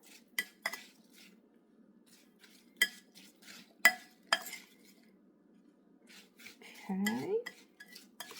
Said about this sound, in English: we are going to stir to coat the apples with the mixture